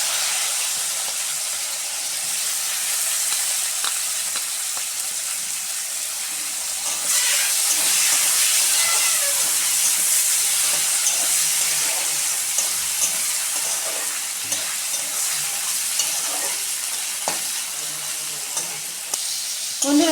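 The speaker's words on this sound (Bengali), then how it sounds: "এবার আমি পেঁয়াজ কুচিটা দিয়ে দিচ্ছি।" Chopped onions frying in hot oil in a pan along with dried fish, a steady close sizzle that grows louder and brighter partway through and continues with faint stirring scrapes and no talk.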